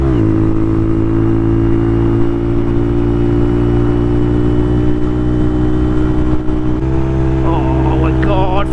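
A Honda Monkey bike with a Yoshimura exhaust runs under load, making a loud, close, steady engine drone that holds its pitch for several seconds. A voice is briefly heard near the end.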